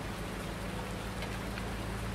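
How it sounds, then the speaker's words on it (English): Steady rain in Farming Simulator 19 on the Westbridge Hills map with seasons, a dense continuous patter and hiss that holds at an even level throughout. "it is still raining"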